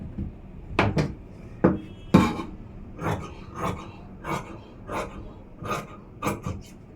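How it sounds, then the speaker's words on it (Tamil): Scissors cut through blouse fabric in a series of sharp, close snips and crisp rustles, spaced at irregular intervals over several seconds with no talking. "இப்போ நான் உங்களுக்கு கட்டிங் பண்ணி காமிச்சிடுறேன்"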